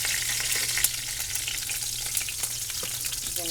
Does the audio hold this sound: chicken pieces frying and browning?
yes